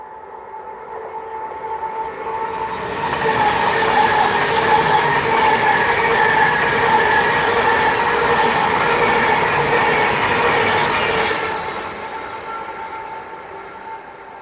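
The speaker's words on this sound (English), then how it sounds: "We have a Pendo approaching from behind us." Pendolino train on the West Coast Main Line north of Crewe, rising from a distant rumble to a loud rushing roar with rail clatter as it passes close by, then fading away.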